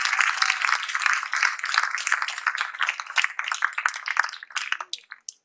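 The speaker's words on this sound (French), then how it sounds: "je voulais qu'on l'applaudisse ce soir pour ce qu'il a fait pour nous" An audience applauds French actor Omar Sy at the Institut français, a dense, steady wave of many clapping hands that thins into scattered claps near the end, with no talk over it.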